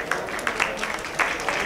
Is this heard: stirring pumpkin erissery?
no